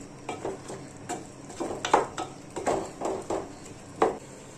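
Duck roast is stirred in a pan with curry leaves: repeated scraping and clattering strokes of a spoon against the metal in an uneven rhythm, with faint sizzling underneath.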